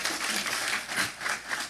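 A church congregation breaks into loud, steady applause after a sermon's call for a strong round of clapping, sustained and dense for the whole stretch with no speech over it.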